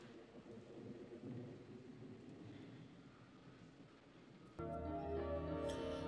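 Rain and thunder from a scene in the 1987 film My Demon Lover: a steady low rumble and hiss of rainfall that jumps abruptly louder near the end, faint and distant overall.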